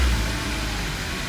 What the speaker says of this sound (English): just revving it up a little bit, not super high